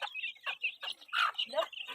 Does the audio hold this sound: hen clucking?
yes